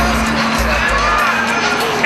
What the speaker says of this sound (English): You can hear them yelling and screaming in the background there.